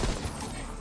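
Rapid gunfire from Call of Duty Cold War Zombies on the Miami map, a brief dense burst of shots, loud and close with no talk over it.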